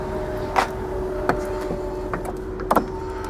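Steady electric motor whine of the power liftgate on a 2015 Ford Explorer Limited, a continuous hum with a few brief clicks and clunks, close up and without talk.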